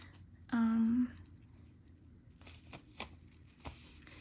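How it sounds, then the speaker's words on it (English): Scissors cut out a paper stamp in a crafting session, giving a few faint, quiet snips and rustles after a brief tonal sound. "I'm going to use my scissors and I'm going to cut this out."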